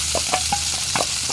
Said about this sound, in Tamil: இந்த பொரியிற சத்தம் இருந்ததும் இந்த தக்காளி போடுங்க